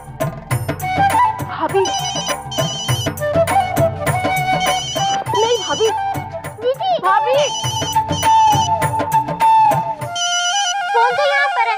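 A mobile phone ringtone plays repeatedly in a loud melodic pattern while children and adults talk over it indoors; a different tone takes over near the end.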